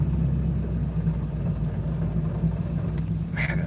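A Chevrolet Corvette C5 engine running rough at around 1000 RPM gives a steady, close low rumble with an uneven undertone, and a short voice cuts in near the end.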